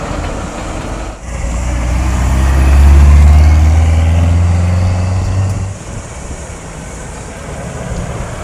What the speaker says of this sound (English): Ferrari Dino.